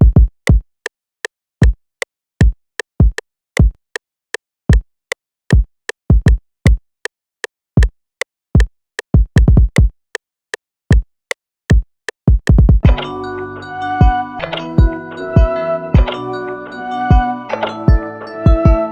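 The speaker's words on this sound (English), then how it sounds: "So first off, for the beat, we have the rack kick." A rack kick drum sample struck alone in a steady beat pattern, punchy isolated thumps with silence between hits, then a full beat with melody joins in near the end, loud and dry with no speech.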